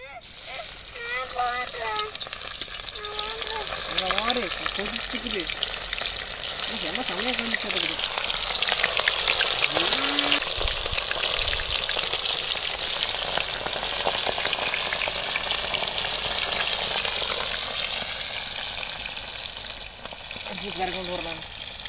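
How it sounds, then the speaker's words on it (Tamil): Fish is dropped into hot oil in a village kitchen and fries with a loud, steady sizzle that swells and then holds, while someone talks at the start and briefly near the end. "எண்ணெய் நல்லா காஞ்சிருச்சு. இப்போ இதில் வந்து மீனை போட்டு பொரிச்சிடலாம்."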